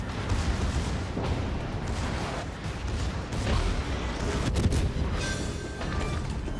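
Battleship Henri IV firing its guns in a naval video game: deep, heavy booms rolling over a constant low rumble, with a few sharper reports near the end.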